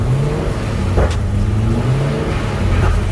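A V8 engine rumbling close by as the throttle is raised, with the pitch climbing in gradual swells above a steady low drone.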